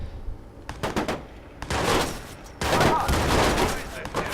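Pistol fire in the video game Watch Dogs rings out in irregular bursts of sharp shots, some clustered rapidly, loud and close, with a voice reacting in between.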